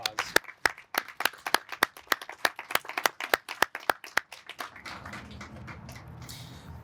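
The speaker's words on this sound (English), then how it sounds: "can you guys do me a huge favor and do a round of applause?" A round of applause at a press conference on COVID-related financial help: a small group claps sharply and steadily for about four and a half seconds, then the clapping thins into a softer spatter.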